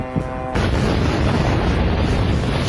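Explosion from a drone attack on the US base at Manama, Bahrain: after a short quiet start, a sudden loud blast gives way to a sustained heavy rumble and roar that fills the rest of the clip.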